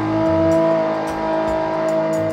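A Ford GT engine in the racing game Forza 6 revs and holds a high, droning pitch, rising and dipping slightly, loud and close with no talk.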